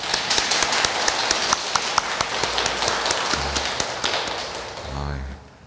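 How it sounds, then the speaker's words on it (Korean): A Catholic church congregation claps together on cue during a Sunday Mass, sharp rhythmic hand claps ringing through the church space, followed by a brief spoken voice near the end. "다 함께 한 박수 한번 치고 시작할까요?"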